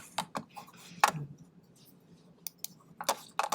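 Computer mouse clicks while uploading a file to a remote server, a scattered handful of sharp close clicks in an otherwise quiet room.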